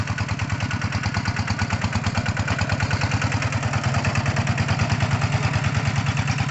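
A small single-cylinder walking tractor engine, pulling a three-disc plow through a cassava field, chugs steadily and loudly close by, its rapid regular thumping continuing without pause.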